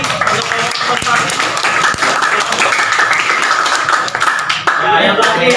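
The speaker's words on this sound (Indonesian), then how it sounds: "beri tepuk tangan sekali lagi untuk kelompok observasi" Students in an Indonesian classroom clap for a presenting group, loud and close, a mix of rhythmic and scattered hand claps with voices chattering through it.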